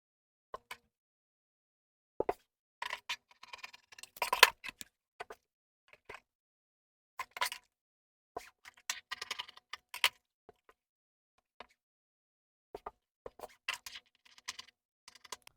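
Aso Oke fabric pieces for baggy cargo pants are cut in a quiet room, producing faint, sparse crisp clicks and short bursts of snipping with long pauses between.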